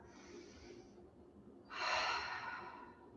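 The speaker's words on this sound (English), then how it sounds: "Taking a breath or two, clearing breath." Deep exhale during a yoga session, a soft breath followed by a louder, fuller rush of air lasting about a second, close and alone without talk.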